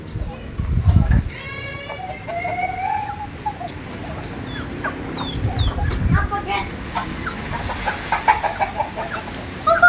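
Free-range village chickens cluck and chatter around a yard, with a rooster among them, while people talk nearby and a dog may be heard briefly.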